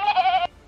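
One sheep gives a single wavering bleat, clear and close, short and alone without any talking.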